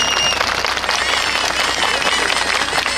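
Audience at a rodeo bull-riding tournament, the Torneo Rey del Reparo, giving a steady burst of applause mixed with crowd noise, loud and continuous for the whole stretch.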